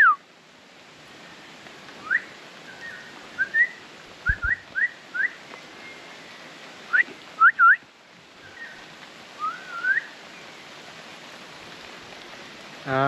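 A man whistles short, rising chirps and trills that imitate bird calls on a rainy fort trail, sounding in scattered bursts over a soft background hiss of rain.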